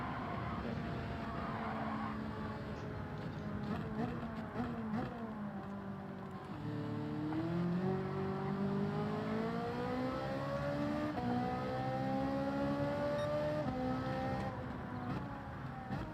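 Race car engine in the Gran Turismo 7 racing game, droning steadily and loud with gear shifts and rising and falling revs through a corner, with no break over the whole stretch.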